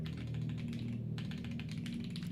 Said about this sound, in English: so I'm typing that up